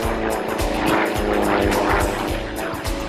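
Yak 54 aerobatic propeller airplane performing at an airshow, a loud close buzzing engine with a rapid pulsing prop beat, sustained throughout without talk.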